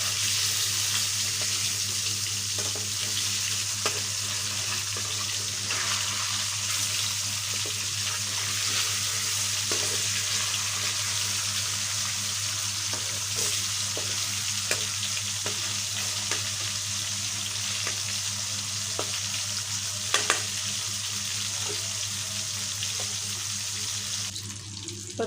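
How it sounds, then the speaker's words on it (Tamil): Fish frying in hot oil in a home kitchen, turned on both sides, giving a steady, close, continuous sizzle with faint crackles throughout and no talking. "இது மாதிரி எல்லா மீனையும் பொரித்து எடுத்துக்கலாம்."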